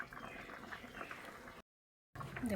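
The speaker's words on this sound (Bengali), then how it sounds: "দেখো আমার ডুমো কীভাবে ফুটছে, ডুমোটা প্রায় হয়ে আসছে।" Pumpkin curry bubbling and simmering in a pot, a steady close bubbling that cuts out briefly and then resumes.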